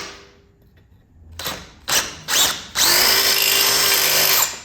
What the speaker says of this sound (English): And this hole's not big enough, so I'm going to drill it out.